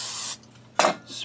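Vegetable oil sprayed from a can into a cooking pot, a hissing burst followed after a pause by a second short spray and a fainter third.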